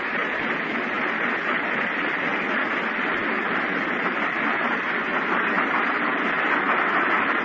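A train running on rails in an old 1937 radio drama, a steady dense rumbling roar with faint rhythmic clatter that continues unbroken at an even, fairly loud level.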